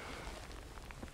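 Steady rain patters down across an open spring woodland during a woodcock hunt, a soft continuous hiss close around the listener with a brief louder knock at the very end.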